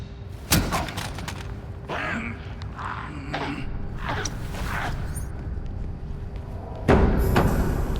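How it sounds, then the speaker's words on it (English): Heavy banging and thuds behind a reinforced door in the video game Gotham Knights, irregular knocks and creaks with a louder impact near the end. "I hear banging."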